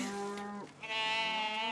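Cows moo in a cartoon Wild West setting: two drawn-out moos follow one another, the first low and falling, the second higher and held. The sound is clear and alone, with no talk.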